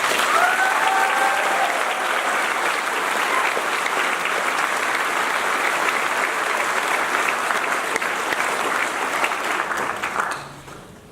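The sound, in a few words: graduation audience applause for school staff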